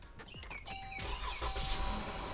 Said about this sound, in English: you want to start the car